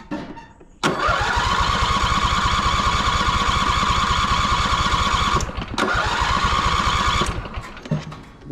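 A farm vehicle's engine catches and starts, then runs at a loud, steady idle with close, even chugging, dips briefly midway, picks back up and tapers off near the end.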